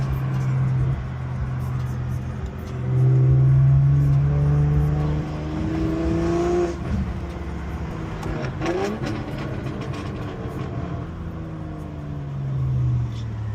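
A turbocharged car engine with a 6870 turbo revs repeatedly, its loud drone climbing and falling in pitch as the turbo spools up with a rising whistle, a few sweeping revs close by.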